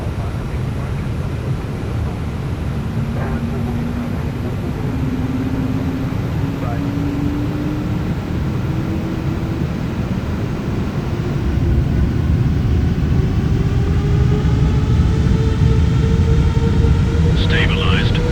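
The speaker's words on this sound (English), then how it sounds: "Clear for takeoff, runway 18, Lufthansa 732 Heavy." A Lufthansa heavy airliner rolls for takeoff on runway 18 at Frankfurt in Microsoft Flight Simulator, a steady broadband engine roar with a rising whine that swells louder toward the end.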